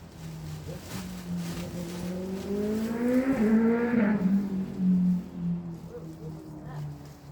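An engine drones and rises in pitch as a motorcycle passes, swelling louder midway then fading, with faint talk in the background.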